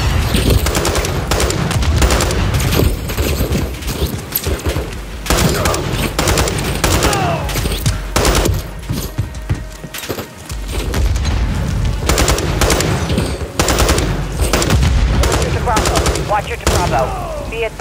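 Dense, rapid gunfire from a Call of Duty Modern Warfare III campaign firefight, with automatic bursts and booming shots crowding the scene almost continuously, loud and close, while voices speak over the battle.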